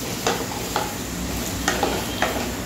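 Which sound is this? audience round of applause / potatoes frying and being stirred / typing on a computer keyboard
potatoes frying and being stirred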